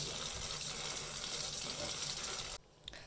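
Water running from a tap over cucumber seeds in a colander, a steady close splashing stream that stops abruptly near the end, leaving a few faint drips and handling sounds.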